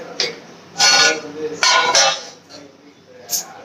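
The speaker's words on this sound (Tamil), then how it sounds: "இந்த கடாயை வச்சுக்கலாம். வச்சுட்டு எண்ணெய் ஊற்றிக்கலாம்." A metal kadai set on a stove clanks and scrapes against the burner in several loud, close bursts separated by short pauses, with no speech.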